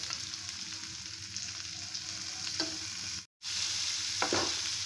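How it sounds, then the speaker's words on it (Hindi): Onions frying with ginger garlic paste in a pan, a steady close sizzle with occasional stirring scrapes, broken by one brief pause. "प्याज को हल्का सा ब्राउन कर लेंगे हम उसको ब्राउन होने देते हैं"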